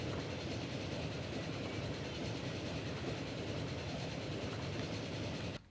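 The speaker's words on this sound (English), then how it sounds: "And there's one of our express trains." Express train in the Transport Fever game rolling along with a steady rhythmic clatter of wheels on rails, moderately loud and continuous, cutting off abruptly at the very end; no talking.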